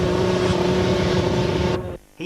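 An enduro motorcycle engine with its throttle jammed open roars at a steady high pitch, loud and close, then cuts off abruptly near the end before briefly returning.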